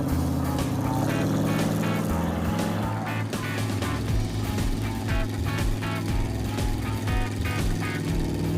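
A car with a nitrous-equipped engine drives along the road with a loud, continuous engine drone and road rumble, no talking.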